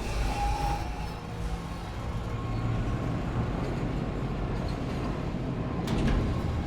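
A tram in the Dead Space Remake pulls into the flight deck station, a steady low rumbling drone with rail noise that rises slightly near the end, with no talking over it.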